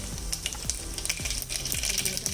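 Mustard seeds and asafoetida fry in hot oil for Kolhapuri misal, giving a steady close sizzle with quick crackling pops and a few sharp spits throughout.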